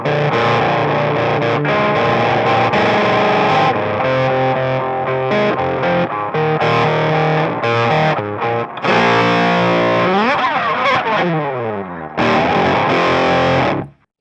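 A distorted, fuzz-toned electric guitar plays a riff, loud and up close with ringing notes and fast chord changes, briefly dropping out twice before stopping abruptly at the end.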